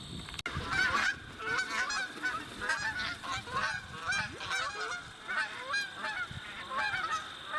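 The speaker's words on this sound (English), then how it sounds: "We've been seeing larger flocks of geese overhead lately" Geese honk repeatedly in a loud, overlapping chorus at a beaver pond, with many calls close together throughout and a brief thump near the start.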